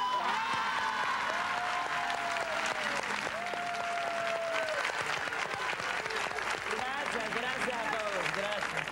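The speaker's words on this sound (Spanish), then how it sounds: "Un aplauso para Cuba." Studio audience applause at a televised Peruvian tribute to Celia Cruz in 1999, a continuous, even wash of clapping with cheering voices layered over it, steady from start to finish.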